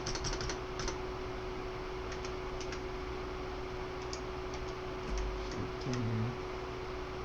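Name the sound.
typing a search on a computer keyboard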